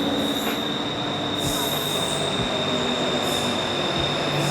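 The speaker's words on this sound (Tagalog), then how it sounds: "Ito na yung tren" A train pulls into a station in Bangkok, Thailand, with a constant high wheel squeal over a dense rumble of rolling wheels and faint rail clacks, loud and close.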